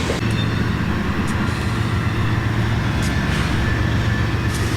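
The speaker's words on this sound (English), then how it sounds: "the train travels its last couple of miles to Steamtown" A freight train hauling sand rolls past in Northeastern Pennsylvania, a loud, continuous rumble with a steady low drone and faint squeals above it, no voices.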